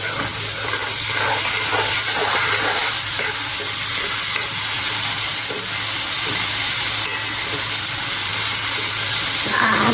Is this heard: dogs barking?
no